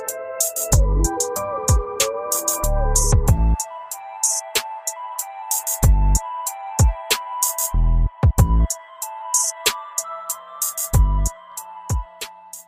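Electric guitar passage from part 1 of a recording, sustained ringing notes broken by sharp percussive hits and stops in a choppy, rhythmic pattern, fairly loud with no talking.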